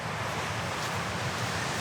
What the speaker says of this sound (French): Le vent du nord est très fort.